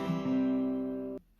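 Acoustic guitar strummed on the highest four strings after a bass note, with a hammer-on, one sustained ringing chord cut off abruptly near the end.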